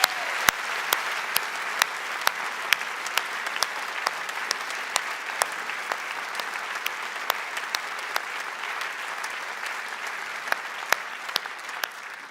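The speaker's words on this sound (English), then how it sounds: "So again, a warm applause for you." Sustained warm applause from an audience at an academic year opening ceremony, a loud, even crowd of clapping hands with a few sharp, prominent claps punctuating it throughout a long stretch.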